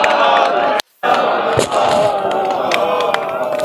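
Large crowd at a Buddhist Dhamma gathering clapping and chanting together, a loud dense roar of applause and voices with sharp claps, briefly cut out near the start.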